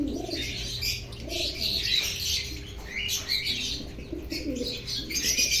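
Male pigeons coo repeatedly in a loft, low throaty calls rolling one after another at close range, with chirps, squawks and brief wing flaps from other birds around them.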